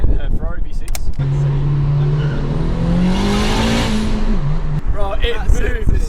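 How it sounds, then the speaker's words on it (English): A Quadrifoglio car with a Ferrari V6 engine accelerates hard, its engine note holding steady and then climbing for several seconds, loud and close, with people talking just before and after the run. "It's a Ferrari V6."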